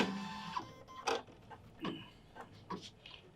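An embroidery machine sews a placement stitch nearby, a quiet run of rhythmic mechanical clicks and whirring bursts spaced about every half second.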